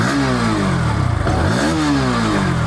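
A Bajaj Pulsar NS160 motorcycle engine running close by with an underbelly exhaust, revving up and down in a couple of swells over a steady throb.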